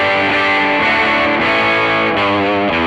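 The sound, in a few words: Les Paul Custom electric guitar with coil split tone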